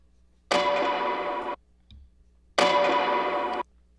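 A one-shot offbeat reggae dub guitar skank sample, played twice as short bright strummed chords of about a second each, separated by silence with a faint click between them, no voices.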